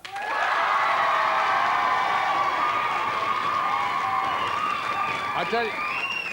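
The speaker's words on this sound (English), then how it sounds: "another round of applause, please, for Paul Miller" A 1992 Blockbusters game show studio audience applauds and cheers a new contestant, a sustained wash of clapping with whoops and raised voices throughout, fading slightly near the end.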